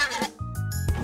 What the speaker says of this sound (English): I've used a bunch of pig groans and snorts taken from Medieval Towns and Villages elements.